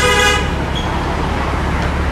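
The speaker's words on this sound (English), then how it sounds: "Put down the cell phone. Honk on the horns." A short car horn toot sounds at the start on a Los Angeles street, followed by a steady, loud wash of traffic noise.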